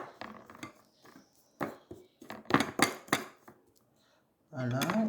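A spoon mixes flour and melon in a bowl for a face mask for dull skin. It makes sharp clinks and short scrapes in uneven bursts, close by, and a brief voice-like hum comes at the end.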